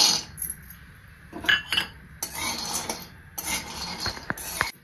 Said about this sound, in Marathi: तर आता मी शेंगा पण भाजून घेते।